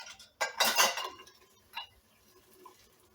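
Hot glass canning jars of peach butter are set down on a cooling rack with a couple of clinking knocks, followed by a softer tap and faint kitchen ticks; no one speaks.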